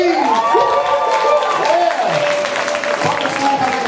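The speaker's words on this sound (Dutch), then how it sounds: "Applaus voor Pien!" An audience at a writers' festival event applauds and cheers, a dense sustained wash of clapping with excited voices mixed in.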